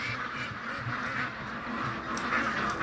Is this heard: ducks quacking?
yes